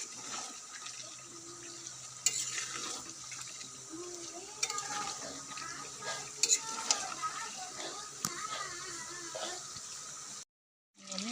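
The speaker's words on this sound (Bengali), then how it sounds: "আলু দিয়ে আবার 10 মিনিট কষিয়ে নিব" Duck meat and raw potatoes are stir-fried in a pan, with a soft steady sizzle under intermittent scraping strokes and a few sharp clinks, ending in a brief silence.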